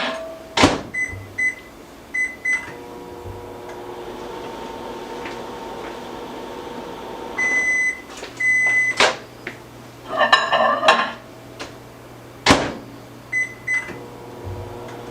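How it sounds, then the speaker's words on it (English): A kitchen microwave oven heats a small bowl of gelatin mixture, running with a low steady hum, with several short beeps and a door click or two, alone with no voices. "we're going to put our gelatin mixture in the microwave for 5 seconds or until it's liquid."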